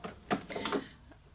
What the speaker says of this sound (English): I'm just going to stitch with a 1/4 inch seam around this edge at the cuff to secure the lining to the actual sleeve